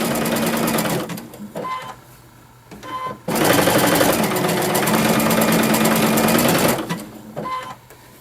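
Sewing machine fitted with a wing needle stitching in loud, steady bursts, stopping briefly twice as the presser foot is pivoted and then resuming its rapid mechanical run.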